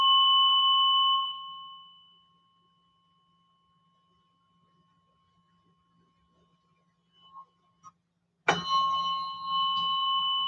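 Tuning forks ring during a biofield tuning session, sustained pure tones that sound at the start, fade into near silence, then strike sharply again near the end, with a few faint taps between.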